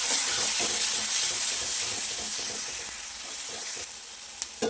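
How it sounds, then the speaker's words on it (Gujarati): Spices and garam masala are stirred into masala khichdi in a hot pan, giving a steady close sizzle with soft scraping strokes throughout and no talk. "હવે બધું સરસ મિક્સ કરી લઈએ."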